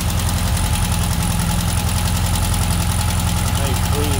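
A 1971 Volkswagen Karmann Ghia convertible's air-cooled engine idles close by, its loud, steady, slightly knocking rumble running without a break for the whole stretch.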